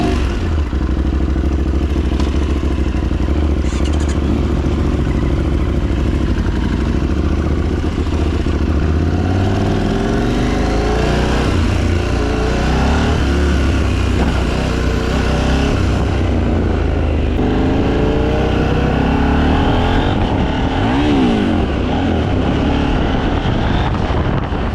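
A KTM 890 Duke motorcycle engine fires up and runs for the full stretch, loud and close, with steady rumbling and repeated revs rising and falling, plus mechanical clatter from the gearbox quickshifter.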